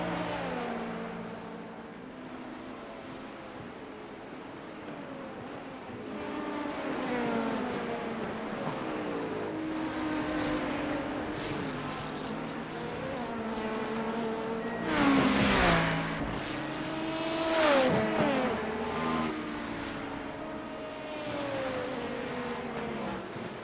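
An LMP2 prototype races in iRacing, its engine droning and climbing through gear changes, swelling louder in the middle with sharp revving peaks and whooshing passes from nearby cars, no talk over it.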